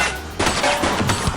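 A rapid burst of gunfire rings out loud and close in a police chase video game, as a fleeing suspect in a red jacket shoots.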